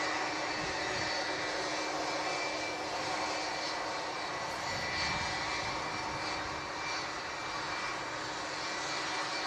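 Boeing 757 airliner at Manchester airport, a broad steady engine roar that fills the air throughout, fairly loud and even with no voices.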